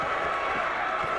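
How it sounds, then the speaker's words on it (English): A high school basketball crowd cheering for the Trojans roars in a short, loud, steady burst with no pauses, a wall of voices filling the gym. "Trojan crowd really up and roaring now."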